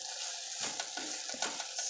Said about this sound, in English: So once I have them sweating in there a little bit and you hear a sizzle, you hear the sizzle